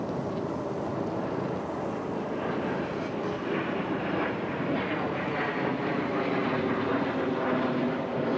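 An airplane passes overhead as a continuous, fairly loud broadband roar that swells slightly, heard during an e-bike ride after Hurricane Idalia.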